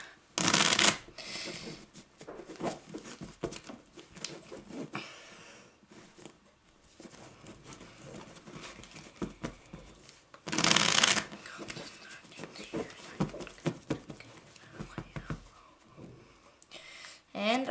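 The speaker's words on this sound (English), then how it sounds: "Now I'm just going to give the cards a really fast shuffle here." Playing cards riffled in a fast shuffle during a close-up card trick, with crisp bursts of rapid fluttering near the start and again midway, separated by quieter handling and talk.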